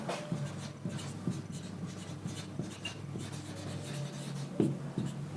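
Chalk or marker scratches across a board during a math lecture, short rubbing strokes in an irregular rhythm over a low room hum, with no speech.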